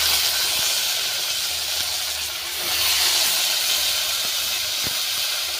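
Eggplant pieces drop into a hot frying pan and sizzle with a loud, steady, bright hiss that surges briefly midway, close by, with faint scattered clicks and no talking.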